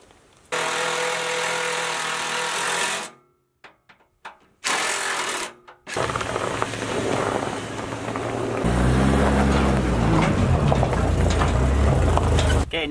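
2014 Polaris Ranger 6x6 utility vehicle with an 800 engine, driven close by: a loud, steady engine roar broken by short pauses and choppy bursts, then a rising rev with rhythmic pulsing toward the end.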